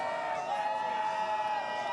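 A large outdoor crowd at the Tampa Bay Lightning Stanley Cup victory boat parade on the water makes a steady, dense roar of cheering and voices, sustained and fairly loud throughout.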